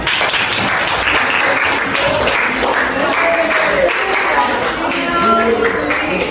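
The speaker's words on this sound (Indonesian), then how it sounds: "Jadi tepuk tangan boleh?" Classroom applause from a group of students, steady dense clapping filling the room throughout, with faint voices mixed in.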